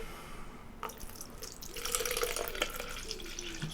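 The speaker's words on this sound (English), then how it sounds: "I'm going to pour 250 out of one bottle, 250 out of another" Razorwire raspberry and apple drinks pour into a bottle with a close, steady splashing trickle that builds after a short quiet start and runs continuously to the end.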